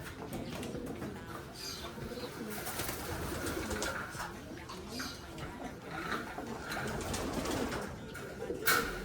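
Racing pigeons coo steadily in a loft, a dense, close murmur of overlapping calls that continues without a break, with faint rustling and scattered higher chirps mixed in.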